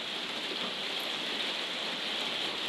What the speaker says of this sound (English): as you can probably hear, I've just been out in the rain